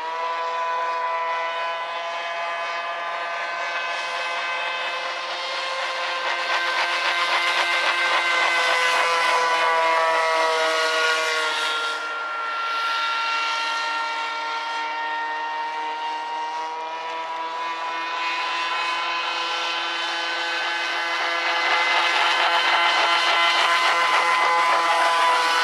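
An RC air boat, a Cajun Commander model, runs continuously with a steady, loud, buzzing propeller-driven engine whine that swells and eases slightly over its run, heard alone without talk.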